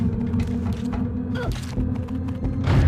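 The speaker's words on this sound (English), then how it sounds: "Give it a good bashing and the door should open." A padlocked door grinding open in the video game Oddworld: Abe's Exoddus, a continuous creaking mechanical rumble with a brief rising squeal midway, loud and steady against dense game ambience.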